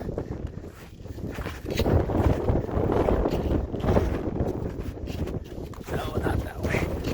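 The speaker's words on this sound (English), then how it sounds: "It's windy." Strong wind gusts buffet the microphone on a snowy mountain hiking trail, a steady roaring rush with surges, while hikers talk over it.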